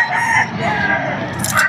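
A Pumpkin Sweater gamefowl stag crows at a pet market, a loud, close, drawn-out call that fills the whole clip.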